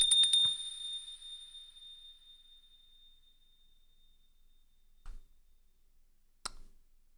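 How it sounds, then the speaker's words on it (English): A single bell ring in the horror game Pocket Mirror, a bright ding with a long, slowly fading ring, then two soft clicks after a stretch of silence. "Ooh, a bell."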